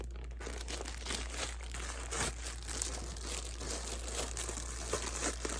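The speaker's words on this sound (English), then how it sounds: "Sorry for the crinkling." Plastic packaging bag around a new purse from an online order, crinkled and handled up close. The crackling is faint and continuous, over a low hum, with no voices.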